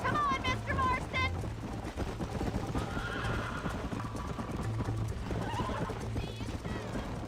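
Hooves clip-clop at a fast gallop in the game Red Dead Redemption while a horse whinnies, with voices talking over the rhythmic pounding.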